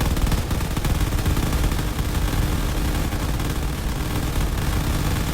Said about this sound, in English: half of the main turret is still functional. It is firing away.